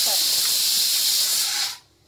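Loud, steady hiss of steam escaping a pressure cooker cooking rice, continuous for nearly two seconds before cutting off abruptly into quiet.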